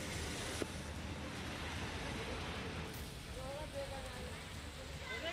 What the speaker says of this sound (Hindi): वहीं एनसीआर में भी कई जगह बारिश हो रही है।